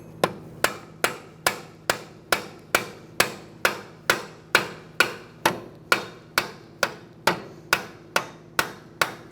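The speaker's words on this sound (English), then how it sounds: "now I'm just going to tap this out the rest of the way." A hammer strikes a seized axle out of a 2014-2019 Kia Soul steering knuckle, a long run of close, loud, evenly spaced metallic blows at roughly two per second, no talk.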